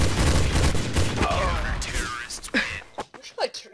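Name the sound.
gunfire in video game Counter-Strike: Source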